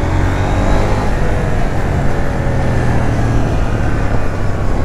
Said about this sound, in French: Ah, ça pétarade.